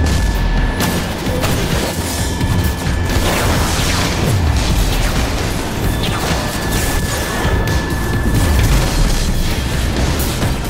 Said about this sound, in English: did they throw a grenade at me?